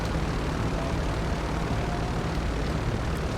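A Marine MV-22B Osprey tiltrotor taxiing in GTA 5, a steady, loud broadband engine and rotor roar that stays constant and close throughout, with no talk.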